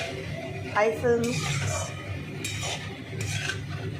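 Leafy greens, including bottle gourd leaves, and vegetables stirred in a pan over high flame, with a faint scrape and clink of utensils against the pan beneath a steady sizzle, and a voice speaking over it.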